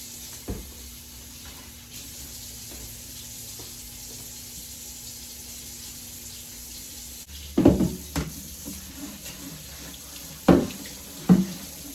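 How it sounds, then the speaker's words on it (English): Kitchen faucet running steadily into a sink while a cutting board and counter are washed after cutting a pumpkin, with a few louder clunks and splashes of handling toward the end. "Wash off our cutting board and our counter."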